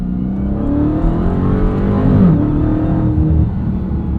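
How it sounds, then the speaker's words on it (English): A deep, throaty 807-horsepower V8 in a 2023 Dodge Charger Hellcat Widebody Jailbreak idles and then revs briefly, its pitch rising and falling, heard up close and loud without speech. "There's just something about a V8 under your right foot, the sound, the vibrations, the torque."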